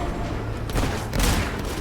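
Gunfire in the video game Fable 3, dense bursts of shots and booms rolling together in a loud, continuous barrage with no clear gaps.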